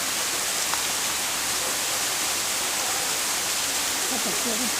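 A waterfall gives off a steady, loud broadband rush of falling water that fills the whole clip without pause, with faint voices barely audible beneath it.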